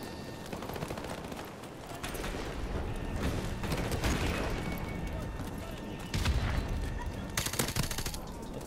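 Gunfire from a gun in a shooter video game rattles in dense bursts and sustained fusillades, close and loud throughout, with a few heavier blasts near the end.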